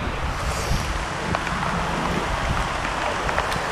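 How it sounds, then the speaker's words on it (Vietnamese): Dense, steady rain pours down close by, a continuous hiss with scattered drips and some wind buffeting the microphone. "trời mưa to quá các bạn ạ"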